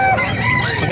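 Chickens at a poultry market in Calumpit in the Philippines squawk and cluck loudly and close by, a brief burst of overlapping bird calls with some voices in the background.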